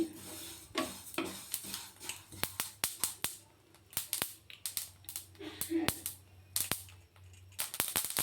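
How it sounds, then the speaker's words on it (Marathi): Sesame seeds dry-roasting on low heat in a pan for homemade mukhwas, giving off sharp scattered pops and crackles amid soft rustling as they are stirred, fairly faint. "तीळ पण मंद आचेवरच भाजून घ्यायचे।"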